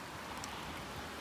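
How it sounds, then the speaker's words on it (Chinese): Rain pattering steadily on the roof of a camper van parked at a campsite in a coastal town during a stormy, windy evening, a dense, even hiss of drops close by. "你们听听这雨的声音"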